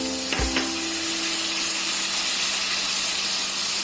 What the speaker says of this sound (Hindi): हम इसको तब तक भूनेंगे जब तक टमाटो सॉफ्ट ना हो जाए